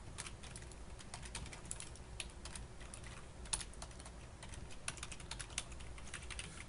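Steady typing of code on a computer keyboard, close and fairly quiet, with irregular clusters of key clicks and a few sharper strokes, no voices.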